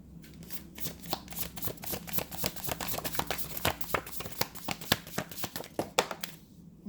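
An oracle card deck being shuffled by hand, a dense run of crisp riffling snaps and flutters, close and loud, continuing for several seconds with no talking.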